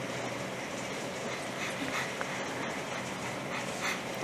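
Rapid, breathy panting in a steady rhythm, made by a person imitating an animal, close by with a faint background hum.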